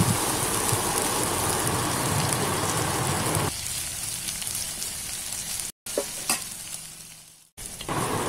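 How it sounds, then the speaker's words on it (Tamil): Small onions sauté in a pan for brinjal masiyal, a steady close sizzle under occasional stirring that drops to a quieter fry partway through, with two brief cutouts near the end. "வெங்காயத்தை நல்லா நம்ம கொஞ்சம் வதக்கிக்கலாம்"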